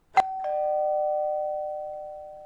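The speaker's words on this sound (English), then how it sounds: "she jumped when the doorbell rang." A single electronic doorbell chime, a sharp strike followed by a clear sustained tone that slowly fades, loud and close in a quiet room.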